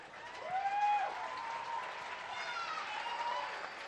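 Stadium crowd at a Tacoma Defiance vs LA Galaxy II soccer match gives a rousing ovation as an injured player gets back to his feet, a steady broad roar of applause and cheering with whistles rising above it.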